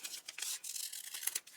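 Scissors snip through paper while a free-hand shape is cut out for a handmade watercolor Valentine's card: a quick run of close, crisp cuts with short pauses between them and no talking.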